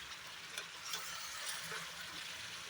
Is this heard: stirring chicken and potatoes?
yes